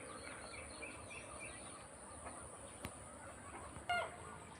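Chickens roam around a rural house, giving soft scattered clucks and chirps against a low outdoor background, with a sharp brief sound near the end.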